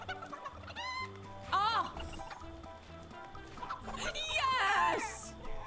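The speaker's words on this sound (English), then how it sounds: "Come back, Little Chicken!" A chicken in Fortnite gives a series of sharp clucks and squawks, close and fairly loud, broken by an excited voice calling out in between.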